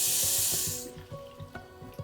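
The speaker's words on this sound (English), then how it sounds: "I'm gonna go ahead and fill this bad boy up. Just some water." Tap water runs loudly into a cup at a kitchen sink for about a second, then cuts off, leaving soft clinks and small handling knocks of the cup afterward.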